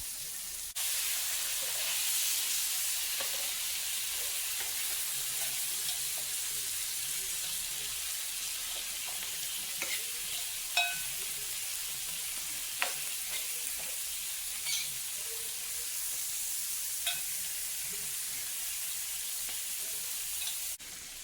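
Caribbean jerk seasoned spiny lobster tail frying in a pan, a steady close sizzle throughout with occasional sharper pops and crackles, no talking.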